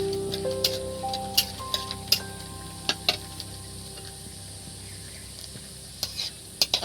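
Peanuts being dry-fried in a pan for a vegetable chop give a soft sizzle with scattered sharp clicks and scrapes of stirring, close and fairly quiet.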